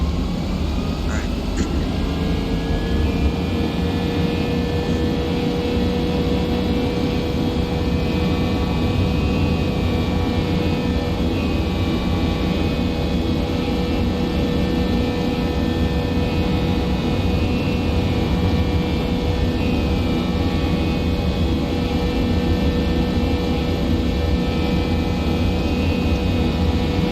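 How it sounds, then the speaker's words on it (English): Jet airliner engines spool up to takeoff power in the Prepar3D flight simulator game, a steady, dense, loud roar with a faint rising whine, holding constant throughout. "We're clear for takeoff. We just did flaps. Let's hit the power."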